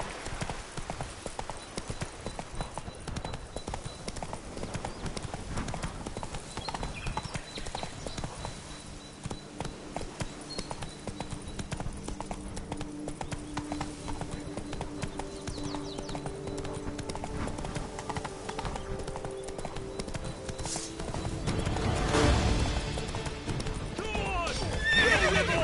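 Horse hooves clip-clop steadily at a gallop in The Witcher 3: Wild Hunt, with a whinny and rising game ambience near the end, under continuous background sound and no talk.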